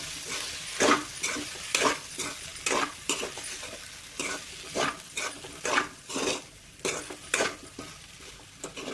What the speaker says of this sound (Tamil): தேங்காய் திருவல் ஆட் பண்ணதுக்கப்புறம் நல்லா ஒரு நிமிஷத்துக்கு கலந்துக்கோங்க